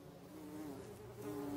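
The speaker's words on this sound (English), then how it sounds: "many bees make a buzzing sound when their wings vibrate very quickly when" Bees buzz in a faint, steady drone that wavers slightly in pitch over a short stretch, with no voices.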